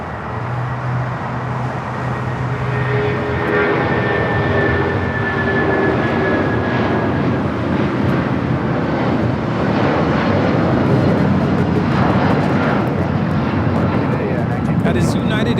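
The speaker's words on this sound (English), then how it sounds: "That is United Airlines 1950 taking off to Newark on the 757-200." A United Airlines Boeing 757-200 thunders through its takeoff at LAX, a loud continuous jet roar with a whining tone early on that stays strong for the whole stretch, faint talk underneath.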